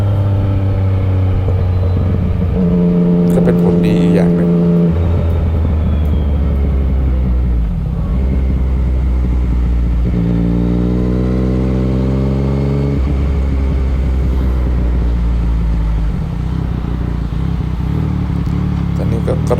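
Yamaha MT-09 motorcycle ridden at easy pace on a road, a loud close engine drone that steps through gear changes, each rise in revs followed by a drop, with steady wind and road rumble.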